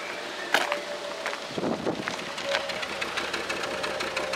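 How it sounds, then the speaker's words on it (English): A car engine with a misfire runs steadily at a fairly low level, with a faint broadband hum and irregular sharp ticks and small uneven bursts breaking the rhythm. "As you can hear, it's misfiring."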